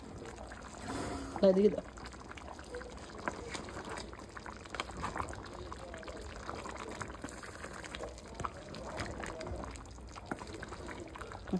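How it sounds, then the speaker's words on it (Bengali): Hot water poured into a pot of yakhni pulao, a steady liquid pour and bubbling running under the whole stretch, with a voice talking briefly near the start. "আর একটু গরম জল দিচ্ছে এখানে"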